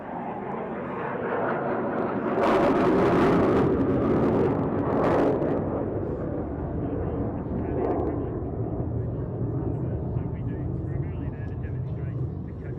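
RAAF Roulettes aerobatic propeller aircraft fly past a crowd at Mindil Beach, a broad engine drone that swells around the middle and then eases, with a voice talking over it.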